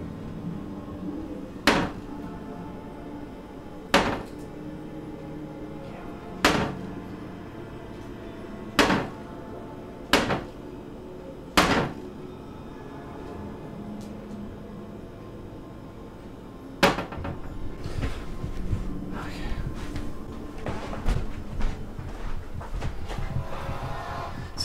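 Door moving by itself, banging open and shut about seven times at steady intervals, loud and close in a quiet house, then a rougher stretch of rattling and knocking.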